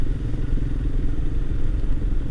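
A Royal Enfield Himalayan motorcycle engine running steadily in top gear on a Welsh road, a continuous close, loud low rumble with a rough, even throb throughout and no talk.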